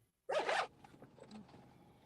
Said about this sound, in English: I heard a zipper.